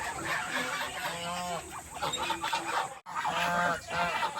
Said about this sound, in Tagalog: ito ang ating mga goose